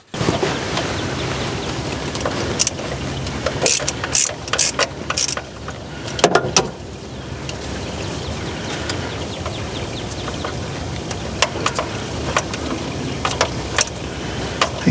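A ratchet wrench removes nuts from the carburetor of a Ford F600 truck, giving quick metallic clicking bursts that start and stop irregularly across the span, close by, with short pauses between turns.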